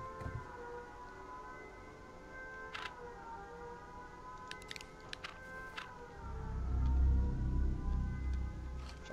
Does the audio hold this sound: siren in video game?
yes